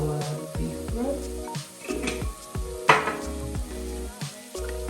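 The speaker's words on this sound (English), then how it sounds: "we are gonna now add our beef broth" Beef broth poured into a hot pan of beef stroganoff brings a hissing sizzle with soft stirring clinks, running steadily beneath a person talking.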